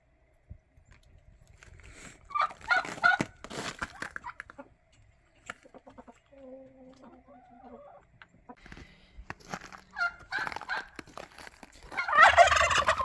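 A second-year turkey hen calls in a few loud, raspy bursts near the start and end, with quieter stretches and faint clucks between.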